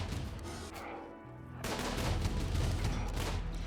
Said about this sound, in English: Anyways, the turrets are opening fire